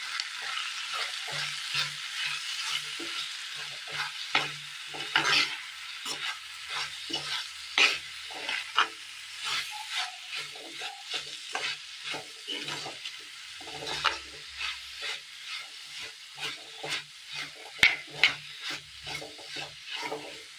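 Vegetable curry with chili powder, tomatoes and vegetable pieces sizzling in a pan while a spoon stirs it, giving repeated scraping clicks over a steady soft fry hiss, close and moderately loud with no talking.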